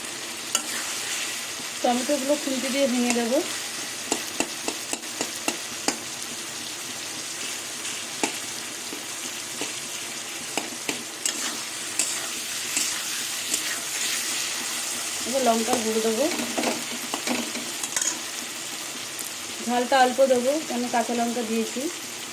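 Okra curry with spices stir-frying in oil, a continuous sizzle punctuated by repeated sharp spatula scrapes and taps against the pan, with a voice speaking in a few short stretches over it.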